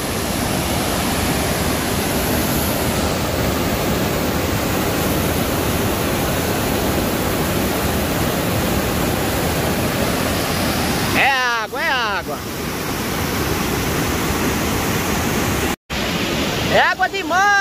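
Water rushes from a burst dam in the rural area between Pilões and Borborema, a loud, unbroken roar of torrent noise, with voices briefly breaking in near the end.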